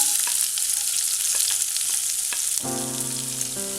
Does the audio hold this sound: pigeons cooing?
no